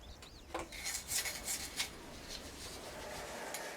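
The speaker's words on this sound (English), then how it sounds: "Scrape off remaining ceramic fiber." Ceramic fiber scraped off microwave kiln rings, giving a gritty rasping rub in a cluster of short strokes early on, then a fainter steady hiss.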